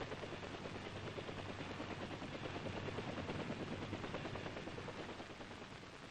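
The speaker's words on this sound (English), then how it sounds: "UH-1A armed helicopter." A UH-1A armed helicopter in Vietnam-era Army operations, its dense, steady rotor and turbine roar loud and continuous throughout with a low drone underneath, no voices.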